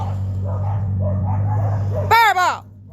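Dogs bark at four-wheelers passing on a rural road: a low motor rumble comes first, then two loud, close barks burst out near the end.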